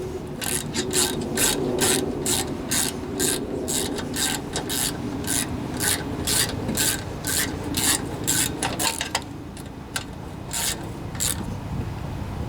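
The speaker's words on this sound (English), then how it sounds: "make sure it's in a good position before I lock the bolts down" A ratchet tightens the flywheel bolts on a Tecumseh lawnmower engine, clicking in quick, even rasping strokes close up. The clicks repeat steadily, then turn sparser and slower near the end.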